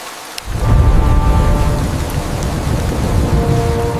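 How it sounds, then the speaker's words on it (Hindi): Heavy rain pours steadily over the Amazon rainforest, a dense, continuous wash of drops starting abruptly after a brief quiet moment, with a faint tonal hum running underneath. "फिर आता है बारिश का मौसम।"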